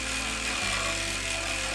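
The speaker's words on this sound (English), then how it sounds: "grab your sanding tool if you've made one like ours, and go through and just sand everything out." A power sander whirs loudly and continuously at close range, its steady mechanical drone shifting pitch briefly partway through.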